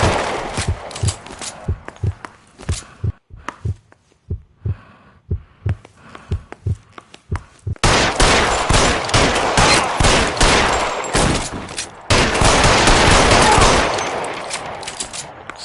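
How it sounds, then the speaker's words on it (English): Gunfire in L.A. Noire during a police shootout: scattered sharp shots crack in an uneven rhythm, then a dense, loud barrage of rapid shots takes over from the midpoint and keeps up to the end, with no voices. "Shots fired."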